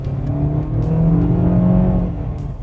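A small four-cylinder car engine revs hard and holds a loud, strained drone for a couple of seconds before easing off.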